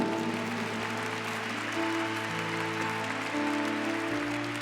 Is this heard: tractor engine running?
no